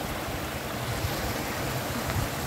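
Drinking water rushing and gushing out of a pipeline at the Kokaha source, which carries water toward Dharan's Vishnu Chowk tank. It makes a steady, loud, broadband roar throughout, with no voices.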